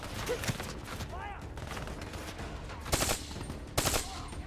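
Gunfire in the Call of Duty Black Ops 3 campaign rattles under battlefield noise and voices. Scattered shots are followed by two sharp, louder volleys near the end.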